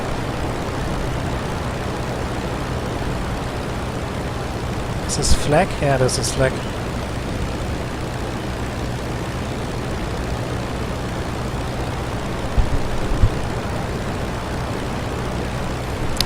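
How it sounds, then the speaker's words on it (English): An Albatros D.III biplane engine in Rise of Flight drones steadily and loudly throughout, a constant close mechanical hum under a man's speech, with brief swooping tones partway through. "it's hard to talk when there's an engine screaming in your ear"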